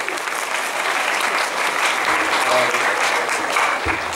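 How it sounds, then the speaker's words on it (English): Dense, steady audience applause at a South Texas Comic Con Q&A panel, filling the room evenly at close range with a few louder claps near the end. "Let's give a round of applause."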